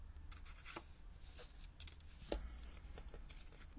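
Scissors trim a paper craft piece in a corner, giving a run of short, crisp snips and rustles close by, with no voices present.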